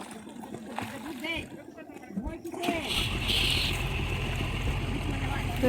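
Water splashing at a river ghat during bathing, with people talking over it at first, then a broad continuous rush and splashing takes over, close and loud.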